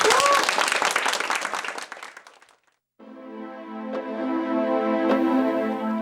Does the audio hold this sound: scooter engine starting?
no